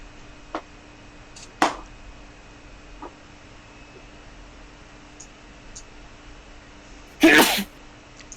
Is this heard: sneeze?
yes